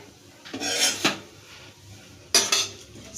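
Cumin, chana dal and urad dal being sautéed in a pan, heard as a few bright metallic scrapes and stirs of a spoon against the pan, two short bursts separated by quieter sizzle-free pauses, close by with no talk.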